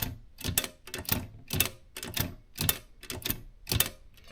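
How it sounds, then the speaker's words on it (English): A Royal 5 typewriter's backspace key is worked repeatedly: about nine sharp, close metallic clacks arrive in a fairly even rhythm, each followed by a short rattle, with no talking. "Yes, the backspace. This is the backspace. It works absolutely perfect."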